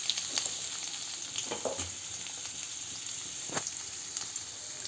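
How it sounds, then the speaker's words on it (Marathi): Sliced onion sizzles steadily in hot oil in a wok, a continuous bright crackle with occasional stirring scrapes and clicks, close and moderately loud with no talking. "आधी आपण हा कांदा छान परतून घेऊया।"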